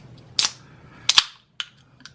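A can of Ice Mountain sparkling natural spring water pops open with a sharp metallic click, then a couple of quick snapping cracks and a faint short fizz, close and alone in a quiet room.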